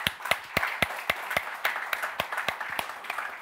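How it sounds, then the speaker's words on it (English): Applause at a business innovation awards ceremony: a steady run of sharp, evenly spaced claps, about three per second, fairly close and moderately loud, with no talking over it. "I certainly give you a huge round of applause"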